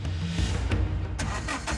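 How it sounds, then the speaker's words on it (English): A car engine cranks again and again without catching, a rough, sustained churning with short bursts of effort, close and fairly loud. "Why isn't the car starting?"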